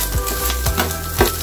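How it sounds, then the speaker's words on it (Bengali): An egg fries in a pan over a high flame while making Maggi masala noodles, giving a close, steady sizzle broken by three sharp scraping or stirring knocks. "এটাকে একটু ডিমটাকে চুলা ফ্লেমটা বাড়িয়ে একটু ভাজা ভাজা করে নিব"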